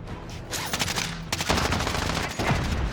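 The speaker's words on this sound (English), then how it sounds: "I'm taking fire!" Gunfire in Call of Duty Warzone, a battle royale shooter: rapid automatic bursts in dense, loud volleys, briefly pausing then resuming, with a sustained fusillade through most of the stretch.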